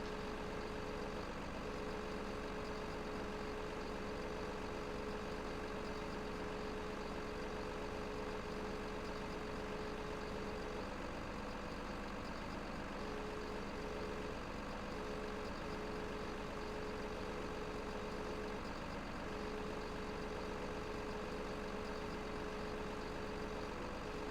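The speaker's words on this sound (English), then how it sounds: "And I see our truck coming on up." A truck engine in the video game Farming Simulator 2015 idles steadily, a faint, even low rumble with a constant hum that holds without change.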